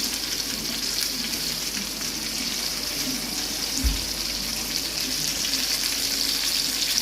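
Steady, close hiss and crackle of chicken frying in hot oil, KFC-style, continuous throughout, with one soft thud partway through and no talking.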